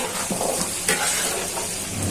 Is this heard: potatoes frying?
yes